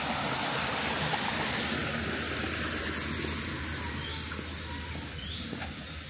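A stream rushes steadily beside a hiking trail near Jersey's Devil's Hole cliffs, a constant close wash of water with faint bird calls above it.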